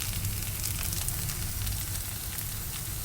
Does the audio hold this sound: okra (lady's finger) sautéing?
yes